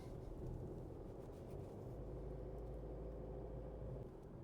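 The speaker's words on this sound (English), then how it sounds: "So just cruising, doing about 50 Ks. There's not really a huge amount of road noise." A 2023 Isuzu D-Max Spacecab cruising at about 50 km/h, with a steady low engine drone and moderate road and tyre noise running continuously throughout, with no talking.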